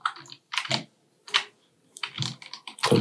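Keyboard shortcut keys pressed while modeling in Blender: several short clusters of close clicky keystrokes and mouse clicks with brief silences between, no voice.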